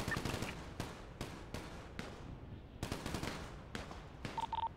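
Rapid bursts of gunfire in a video game police SWAT training match, dense automatic volleys and separate cracks coming in clusters with brief gaps, fairly faint in the mix.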